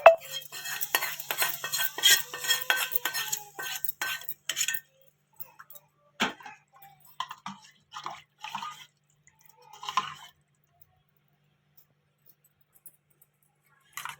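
Tempering stirred into raw mango tamarind water, with busy liquid swishing and spoon clinks at first, then sparse drips and light taps that fade to near silence.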